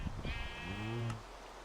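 A single sheep in the Minecraft video game lets out one drawn-out, wavering bleat, close and clear, with no voices alongside.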